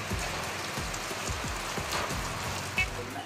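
Steady rain patters and drips onto a surface nearby, a dense irregular tapping that continues throughout without voices.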